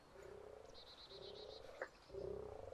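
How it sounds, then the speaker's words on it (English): Frogs croak in the DayZ Origins mod, the calls sounding as a steady, repeated chorus of short pulses that rise and fall across the whole moment, fairly close and with no talking over them. "Why do they make, like, frog sounds?"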